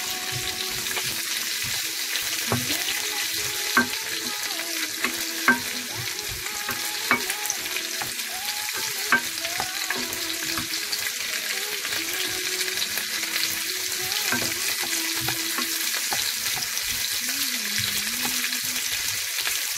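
Garlic browning in hot oil for pork hamonado, a loud continuous close sizzle with occasional clicks and scrapes of a spatula stirring in the pan.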